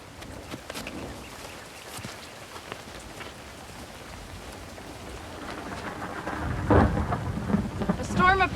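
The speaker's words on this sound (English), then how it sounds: "A storm approaches." An approaching thunderstorm with steady rain falling and low rolling thunder that grows louder and closer toward the end.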